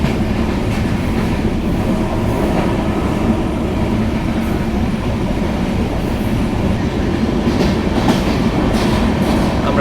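A passenger train travelling from Joypurhat toward Natore near Jamalganj station runs at speed, a loud, continuous close rumble of wheels on rails with steady clickety-clack and no pauses.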